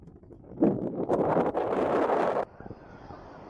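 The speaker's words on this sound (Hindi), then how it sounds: "काफी तेज हवा चल रही है।" Loud sea-shore wind buffets the microphone in rough gusts for a couple of seconds, then drops to a softer rushing background.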